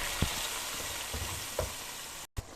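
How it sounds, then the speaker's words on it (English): Onions sizzle in bleached palm oil for ofada stew, a soft, continuous hiss broken by a few quiet stirring knocks and scrapes, with no talking. "First, I'll be adding the onion, just like that. Then I'll stir."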